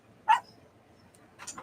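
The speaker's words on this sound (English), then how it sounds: "Sorry about the dog." A small dog yaps indoors, one sharp bark followed after a quiet pause by a quicker cluster of yips, close and fairly loud, with no talking.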